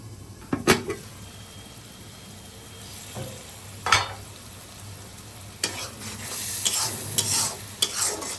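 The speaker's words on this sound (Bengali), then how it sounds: "ঢাকনা দিয়ে ঢেকে একটু মশলাটা কষিয়ে নিই" Spice paste for shrimp with bottle gourd greens frying and being stirred in a pan, with scraping strokes and clinks of a utensil against the pan over a steady low sizzle, close and moderately loud.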